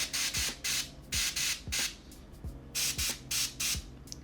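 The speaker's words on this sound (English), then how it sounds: "So I'm getting quite close with the airbrush here, and I've got my airbrush on a very low PSI, around 20." Airbrush spraying paint onto an Ork miniature at low pressure, around 20 PSI, held close: short hissing bursts repeat about every half second, loud and steady, with faint clicks of the trigger between them and no talk.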